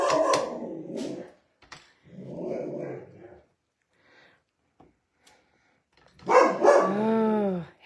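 Dog barking at another dog passing by outside, a burst of several sharp barks near the end after a few seconds of room sounds.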